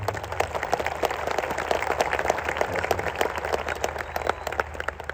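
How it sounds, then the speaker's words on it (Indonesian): Audience at an outdoor Islamic sermon gathering in a mosque courtyard in Pekanbaru claps steadily throughout, a dense, moderately loud patter with a low hum underneath. "tepuk tangan dulu"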